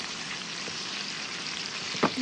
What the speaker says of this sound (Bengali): তেল গরম হওয়ার সাথে সাথে দিয়ে দিলাম আদা বাটা, রসুন বাটা পেস্টটা দিয়ে দিলাম।